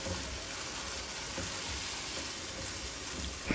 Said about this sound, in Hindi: ये भी हम इसमें शामिल कर देंगे और इसको अच्छी तरह से भूनना शुरू कर देंगे